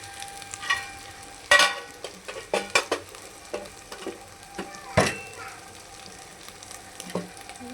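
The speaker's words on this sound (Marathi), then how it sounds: "मस्तपैकी तेल सुटेपर्यंत भाजून घेऊया आपण." Masala spices fry in oil for rajma masala, a close, continuous sizzle broken by repeated sharp clacks and scrapes of a spoon stirring in the pan.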